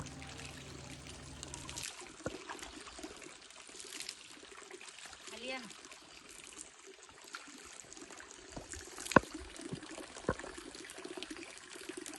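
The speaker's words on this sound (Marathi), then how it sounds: "फक्त डोक्यावरती पाणी घेतलं मी" Water from a mountain spring pours and trickles over someone's head, a soft continuous splashing at moderate distance, with a few sharper knocks and faint voices in the background.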